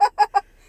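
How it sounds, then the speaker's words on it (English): Three quick, loud honks from a goose in rapid succession, close by, followed by near silence. "There's a goose!"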